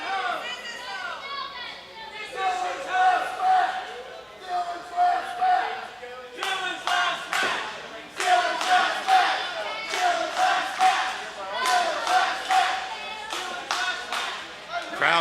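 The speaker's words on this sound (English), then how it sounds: "Crowd trying to intimidate or get under the skin of Bostic" Independent wrestling crowd at a steel cage match, Dylan Bostic vs DJ Z, shouting, chanting and clapping in bursts, with rhythmic claps and rising yells that swell and fade, and a commentator talking through it.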